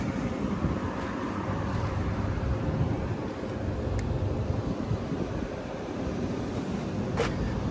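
An HVAC fan motor runs with a steady, dense low rumble and whoosh, continuous and fairly loud, with faint brief clicks.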